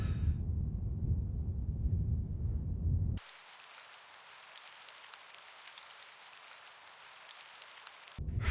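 Steady rain hiss in Her Majesty's SPIFFING, an even wash that starts abruptly after low rumbling ambience and runs alone for about five seconds before cutting off.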